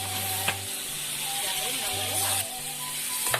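Salted fish frying in a pan over a cooking fire while rice and stir-fried vegetables are prepared, a steady bright sizzle running throughout with low repeated hum-like tones beneath and a couple of brief clicks.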